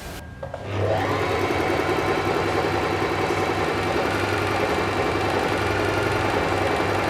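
A Messina N808 sewing machine starts up and runs steadily with a fast, even mechanical whir and rhythmic clatter, close and continuous.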